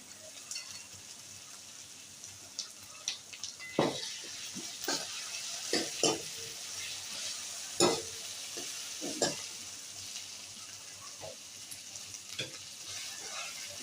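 Onions and tomatoes fry for ragda in a pan, with a steady close sizzle and a series of sharp spoon-scraping stirs scattered throughout.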